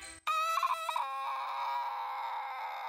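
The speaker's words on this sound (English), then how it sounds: "Oh, look, a bird! I killed a bird!" A rooster crows in one long, drawn-out cock-a-doodle-doo after a sharp onset, loud and close, trailing into a steady tonal tail with no talk.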